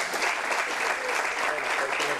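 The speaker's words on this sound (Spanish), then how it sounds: "Un fuerte aplauso para ella." Audience applause for a speaker introduced at a talk by a triathlete. Dense, steady clapping from a crowd runs throughout at an even level.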